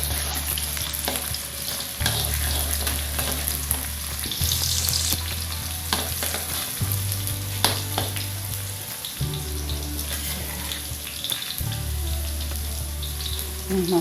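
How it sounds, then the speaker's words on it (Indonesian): Garlic and shallots fry in a pan with a steady sizzle, while a utensil scrapes and stirs in repeated strokes and faint clinks sound over a low background hum. "ya, digoreng dulu nih bawangnya biar mantap rasanya ya"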